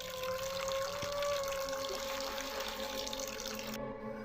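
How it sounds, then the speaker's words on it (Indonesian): Water trickling in a bathroom at night: a faint, steady wash of running water that holds constant for a few seconds and then cuts off. "terdengar lagi suara gemericik air di dalam kamar mandi"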